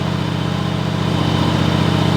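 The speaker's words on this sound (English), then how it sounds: "it has a little sputter, but I think that'll iron itself out as it runs" A John Deere GX255 lawn tractor engine runs close by with a loud, steady, even chug and a slight sputter. It idles alone with no voices.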